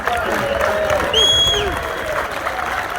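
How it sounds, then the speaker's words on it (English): Crowd at a youth football academy presentation day cheers and applauds steadily for about three seconds, with a few whistles rising above the clapping. "One more cheer, come on."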